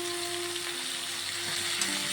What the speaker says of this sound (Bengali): নুন হলুদটাকে দিয়ে আবারও নেড়ে চেড়ে কিছুক্ষণ রান্না করে নেব।